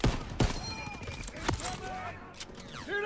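Gunfire from the Call of Duty WWII campaign: sharp shots crack out in quick succession over steady background battle noise, with voices and game audio mixed in underneath.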